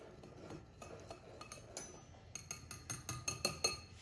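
Dry waffle batter ingredients with sugar being mixed in a bowl, producing soft scraping and a quickening run of light clinks from a utensil against the bowl toward the end, fairly quiet with no talking.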